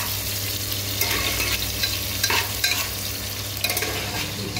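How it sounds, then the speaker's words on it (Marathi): Onions frying in a pan for moong dal khichdi, giving a steady close sizzle with a low constant hum beneath and a few louder crackling bursts as they're stirred; no one speaks. "आता कांदा आता मस्तपैकी भाजायचा"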